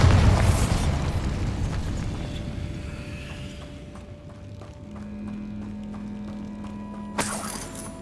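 A Bombarda explosion spell blasts in the Hogwarts Legacy video game, opening with a loud booming burst that rolls into a dense, rumbling decay, with a sharp crack near the end.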